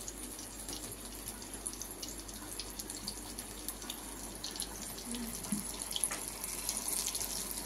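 Fish pakora sizzles steadily in hot oil as pieces are fried, a continuous hissing crackle with faint pops, close and fairly quiet, with no voices.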